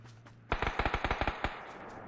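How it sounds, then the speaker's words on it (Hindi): A burst of automatic gunfire in the video game PUBG: about ten sharp, evenly spaced shots in quick succession, loud and close, followed by a single trailing shot, with no voices. "किसने गोलियां चलाई बे?"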